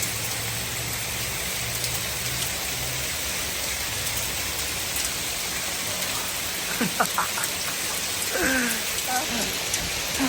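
Steady rain and hail fall in Cochrane, Canada, making a dense, continuous hiss on outdoor surfaces, with brief voices and a faint passing vehicle late in the scene.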